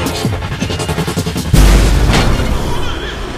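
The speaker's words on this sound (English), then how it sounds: "Let's try the logic bomb." A logic bomb detonates in the action game Remember Me, a single heavy low boom landing about midway and rolling off into a noisy tail, with combat sounds and bursts of talk around it.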